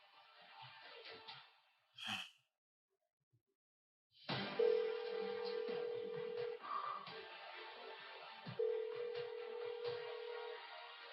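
A phone call rings out unanswered: two long electronic ring tones sound after a short blip and a pause, with faint muffled movement and breath underneath.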